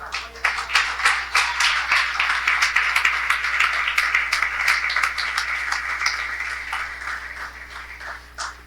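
A church congregation breaks into lively, sustained applause, many hands clapping together up close. The clapping slowly thins out toward the end.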